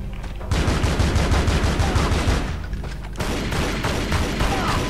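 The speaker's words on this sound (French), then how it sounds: "Ah, un fusil à pompe, d'accord. On sort les grands moyens." Shotgun blasts from Tomb Raider: Legend, a rapid run of loud, dense gunfire bursts that fills nearly the whole stretch, with a short dip before another volley takes over.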